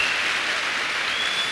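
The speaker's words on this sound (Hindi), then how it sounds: "तो आप सारे लोगों के लिए एक बार जबरदस्त क्लैपिंग होनी चाहिए अपने आप के लिए" Dense, continuous audience applause at a Modicare success-story event, loud and steady throughout with no voices rising above the clapping.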